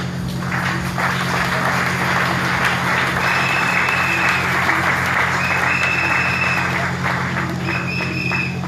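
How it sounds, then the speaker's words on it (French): Sustained applause from a sizable audience at a church conference, dense clapping throughout with a low hum underneath and a few faint whistles or cheers. "Si on peut l'accueillir sous vos acclamations."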